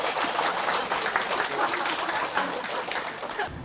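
Clapping rises from an alumni audience of Dongguk University's Buddhist graduate school as a gift is presented, a moderate, fairly quiet patter of applause that eases off near the end.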